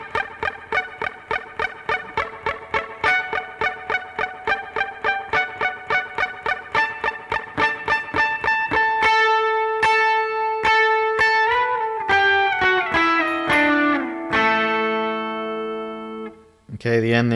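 Electric guitar lick from a song played over strummed guitar: a steady train of bright, evenly spaced picked notes, then sustained bent and ringing high notes near the end, close and clear with no voices.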